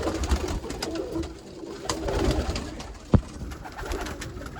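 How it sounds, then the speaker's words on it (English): Pigeons cooing softly nearby, low rolling calls repeating over rustling background noise, with one sharp tap partway through. "you can look at these birds all day long, man"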